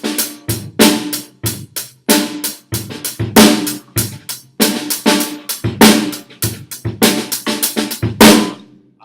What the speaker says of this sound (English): a ghost note on the snare drum would be softer notes, not very accented